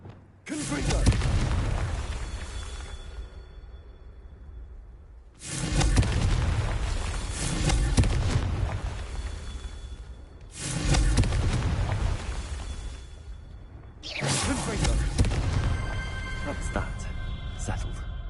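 Four Confringo fire-spell explosions in Hogwarts Legacy, spaced about five seconds apart: each hits as a loud, close boom and then a long rumbling decay before the next blast.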